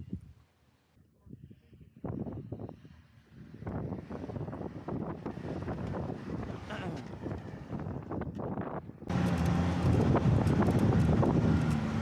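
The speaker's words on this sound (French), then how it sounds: "Il y a vraiment beaucoup de vent aujourd'hui." Strong wind buffets the microphone during a snowy day on the Côte-Nord in Canada, with rough, uneven gusts that swell into a loud, continuous roar near the end.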